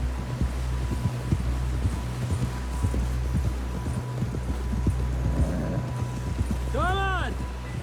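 Horse hooves clip-clop in a steady rhythm over low rumbling ambience in the video game Red Dead Redemption 2, and a horse whinnies briefly near the end.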